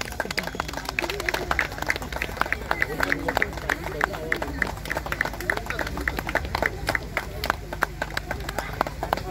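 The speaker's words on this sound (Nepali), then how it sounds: "अलिकति जोडले ताली बजाइदिनुहोस् है त" Guests at a Christian wedding clap together in a sustained, busy round of applause with crowd murmur underneath, fairly soft and continuous throughout.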